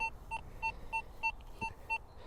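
A faint, steady series of short electronic beeps from an XP Deus 2 metal detector, about three per second, high-pitched and quiet over low background hiss.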